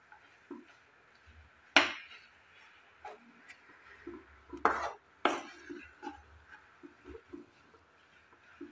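A spoon or spatula scrapes and clinks in a wok while chickpea dal mixture for a sweet is stirred over low flame, with a few sharper knocks amid soft, sparse scraping.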